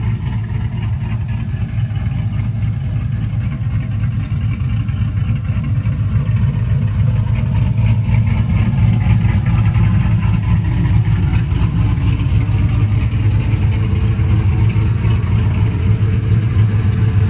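A cammed truck engine runs with its mufflers removed, a loud, deep, continuous close-up rumble with a choppy lopey idle throughout, no talking.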